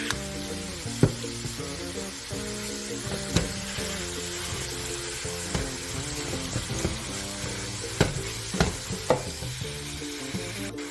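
Ground beef seasoned with salt and pepper sizzles steadily in a pan while being stirred, with close, continuous frying hiss and occasional clacks of the utensil against the pan.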